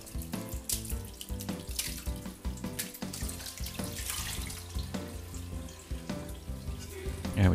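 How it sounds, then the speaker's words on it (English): Curds and whey for a farmhouse cheddar with peppercorns are poured into a cheesecloth-lined colander, producing a continuous close splashing, liquid gush with uneven surges and a louder splash at the end; no one speaks. "all we're doing is pouring that into a cheesecloth lined colander"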